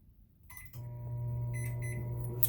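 A microwave oven heats walnut and dark chocolate snacks: a few button beeps, then the low steady hum of the running oven, close by and with no talking.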